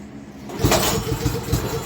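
After a pull, the engine of a 2017 Craftsman Select 28-inch snowblower, choked and primed, catches and sputters into a rough, pulsing run, with a few uneven chugs close by.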